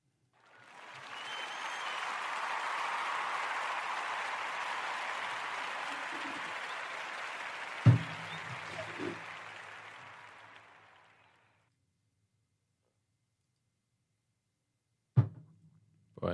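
Crowd applause effect swells in and holds for around ten seconds, then tapers off into silence, with a couple of thumps near the end.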